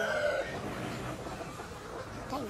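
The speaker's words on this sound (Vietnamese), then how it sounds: "Vào đi gà ơi. Gà vẫn đang rất khôn." Chickens cluck and cackle beside a grilled-fish cooking spot, short nasal calls at the start and again near the end over steady background noise.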